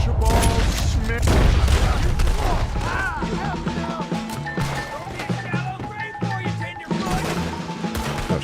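Gunfire rings out in the western video game Red Dead Redemption 2, with a loud burst of rapid shots and impacts at the start followed by scattered blasts under ongoing game music and someone talking.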